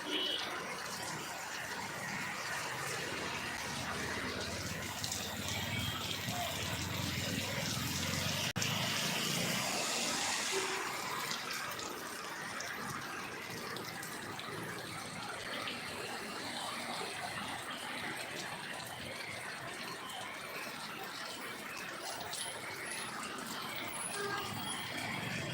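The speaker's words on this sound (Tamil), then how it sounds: "நல்ல மழை, தண்ணி ஓடிட்டு ரோடு தெரில" Heavy rain pours down as water flows across a flooded road in Madurai, Tamil Nadu, a steady loud broadband hiss and rush throughout, swelling briefly partway through, with no clear talk over it.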